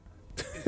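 A short, harsh cough from the video game Fallout 4 bursts out after a brief quiet moment, close and fairly loud.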